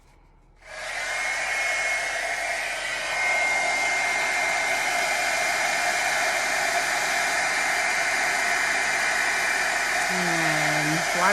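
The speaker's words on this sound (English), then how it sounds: "Let's get out my heat tool again." Heat tool melting embossing powder, switched on after a quiet start and blowing as a loud, constant roaring hiss that steps up slightly in strength and holds steady throughout.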